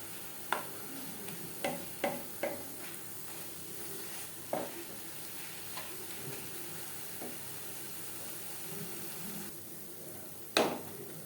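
Makha sandesh mixture cooking in a pan over a low-to-medium flame: a quiet, steady sizzle broken by a handful of sharp scraping strokes of a spatula, spaced irregularly, with a louder scrape near the end.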